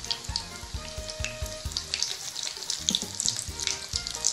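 Chicken cutlets frying in hot oil, a soft steady sizzle with crackling pops, faint and close, with a few low knocks of the pan or utensil early on.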